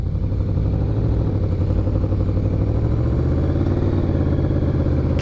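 A Yamaha VMAX motorcycle engine pulling hard in second gear, a steady, loud, dense mechanical roar with rising pitch as the bike accelerates, heard close up from the rider's position.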